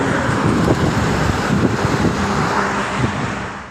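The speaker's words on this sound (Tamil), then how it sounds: "என்ன காற்று தான் பயங்கரமா அடிக்குது சார்" Strong wind roars steadily around a moving truck hauling a load, mixed with road and engine rumble, loud and continuous with no voices.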